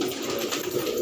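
A pair of Kaldumi Madrasan fancy pigeons coos in a continuous, low, throaty burble. The sound is close and steady for about a second, with no talking.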